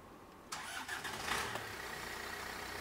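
A diesel car engine with its DPF and EGR removed cranks and fires up in a sudden loud burst, catches and settles into a steady idle close by, with no talking.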